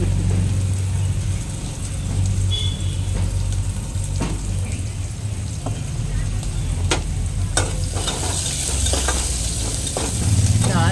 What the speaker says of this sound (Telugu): ఇందులో ఉల్లిపాయలు వేస్తున్నాను కూరలో